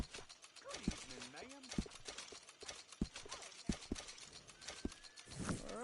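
Horse hooves clip-clop in Red Dead Redemption 2 as a fine new horse is led along, with steady, moderately close hoofbeats repeating under faint voices and background game sound.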